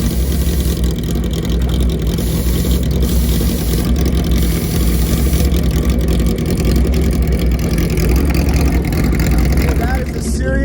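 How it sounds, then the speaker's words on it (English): A drag racing motorcycle purges a large burst of nitrous at a grudge race, a loud steady rush over the rumble of engines and crowd noise, continuous throughout. "That is a serious amount of nitrous that was just purged out."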